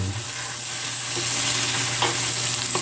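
Gourami fish stirred with soy sauce and seasoning in a frying pan, a steady close sizzle with soft scraping stirs and a few brief clinks of the utensil against the pan.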